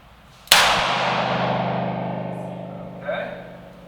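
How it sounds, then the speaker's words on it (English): A single sharp gunshot from a 5-shot revolver cracks out loud and close, then a long ringing tail follows. A second, fainter report comes about two and a half seconds later. "At your discretion, take 2 shots"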